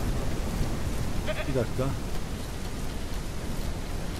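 Steady broadband rain hiss in the Ranch Simulator farming game, a continuous wash throughout, with a brief sheep-like bleat and someone speaking over it.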